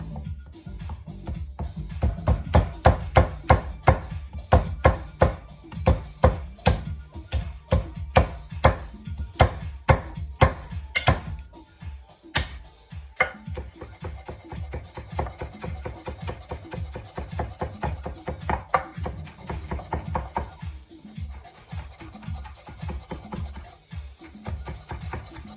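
A knife chops fresh ginger on a cutting board, a fast run of sharp, close taps that slow to scattered, softer knocks and scraping partway through.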